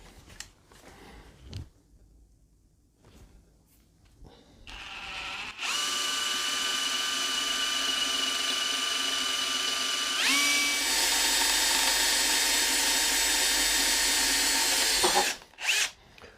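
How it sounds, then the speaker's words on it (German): A power drill bores a 3 mm pilot hole in a bicycle fork, starting after a few quiet knocks, then a loud, steady high whine for about ten seconds that shifts pitch midway and stops abruptly; no voices. "Als nächstes bohre ich mit 3 mm vor."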